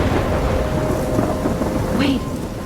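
A thunderstorm in the Life is Strange video game roars as a steady, dense wash of heavy rain with a deep rumble of thunder underneath, loud and continuous throughout.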